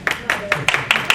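One person claps by hand, about five or six sharp, evenly spaced claps, close and isolated, with no talk over them.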